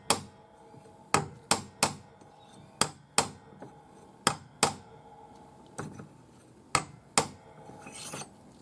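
Sharp metallic taps of a small hammer on a forged opal ring held on a mandrel, about a dozen evenly spaced clinks ringing out alone in a quiet workshop.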